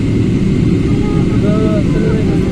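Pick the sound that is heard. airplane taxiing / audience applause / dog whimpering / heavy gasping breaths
airplane taxiing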